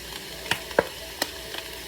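Minced onions fry quietly in a pan for a taco rice casserole, a soft steady sizzle broken by a few sharp clicks of a utensil stirring against the pan.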